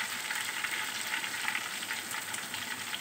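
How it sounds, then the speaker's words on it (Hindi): Ingredients for mung dal khichdi roasting in a pan give off a steady, close, even sizzle that holds for the whole stretch, with no voices over it. "और इतनी देर भुनेंगे कि इसके कच्चापन ख़त्म हो जाए"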